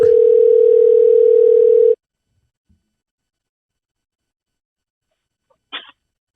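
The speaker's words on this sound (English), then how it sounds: "we're going to give Dorian a call" A steady, loud telephone dial tone holds for about two seconds, then cuts off to near silence, followed by a faint short click.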